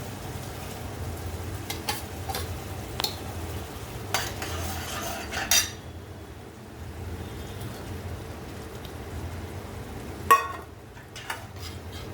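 Moth beans tip into fried masala in a pan and get stirred, with a low continuous sizzle, scattered spoon scrapes and clinks against the pot, and a couple of sharper knocks, heard close without talk.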